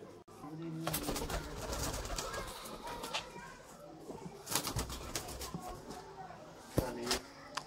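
Teddy pigeons, a purebred fancy breed kept by a pigeon seller in Sialkot, coo softly amid occasional wing flaps, with someone talking over the birds throughout.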